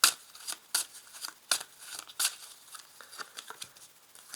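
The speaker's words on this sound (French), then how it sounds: "Je vais tirer une carte." An oracle card being drawn from a deck makes a quick series of papery rustles, snaps and flicks, close and fairly soft, with no voices.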